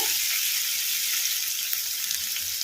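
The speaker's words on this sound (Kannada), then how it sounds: "ಬೆಳ್ಳುಳ್ಳಿ ಪೇಸ್ಟು ಹಸಿ ವಾಸನೆ ಹೋಗೋವರೆಗೂ ಫ್ರೈ ಮಾಡ್ಕೊಂಬಿಡೋಣ" Garlic paste fries over a medium flame in a pan with softened tomatoes for a soya chunks masala curry, giving a steady, close hiss and sizzle throughout with no talking.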